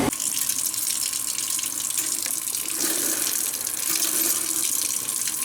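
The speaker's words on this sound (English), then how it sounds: "just go after it with some soap and water" Tap water runs steadily into a sink while heat exchanger parts, the header plate and swirlers, are washed with soap and water, a continuous close hiss with no talking.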